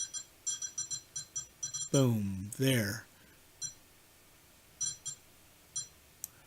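A telephone rings in film footage with repeated short electronic trilling bursts, fairly clear, as a voice talks briefly over the middle of the ringing.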